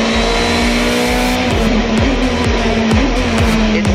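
Sébastien Loeb drives a Hyundai rally car hard on asphalt, its engine screaming loudly and close, with rapid upshifts stepping the pitch and sharp popping bursts between gears.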